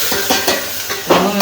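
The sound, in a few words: vegetables sizzling as khichdi is tempered in hot oil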